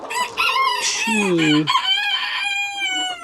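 Chickens in a backyard coop cluck and call loudly and close by, with a rooster-like crowing cry among them and a voice briefly counting over the birds.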